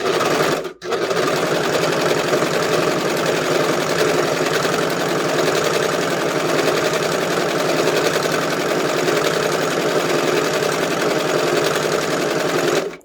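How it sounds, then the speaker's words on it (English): A serger runs continuously along the center back seam of a skirt, a steady loud mechanical whir that stops for a moment near the start and then carries on unbroken. "I'm going to serge along this center back seam edge"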